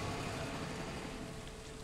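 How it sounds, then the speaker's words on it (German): Steady rain from the Stardew Valley game, a dense even patter that stays loud and continuous throughout with no talk over it. "Ich finde es schön, dass man die Regengeräusche hier bis in die trockene Wüste mitnehmen"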